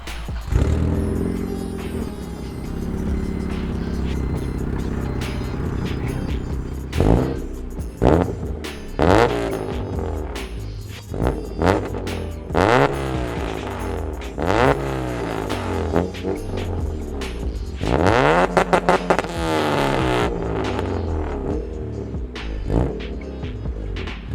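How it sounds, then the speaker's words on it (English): A loud, throaty car exhaust with a custom 3-inch system, no muffler and two resonators, burbles at idle, then blips through a series of sharp revs that rise and drop back, close to the listener. "There's no real muffler on this car. It's just 2 resonators, but I think it sounds great."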